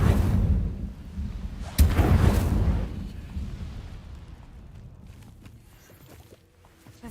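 An Incendio fire spell cast in Hogwarts Legacy: rumbling fiery whoosh, then a sharp burst near two seconds that flares and fades into a softer crackling tail.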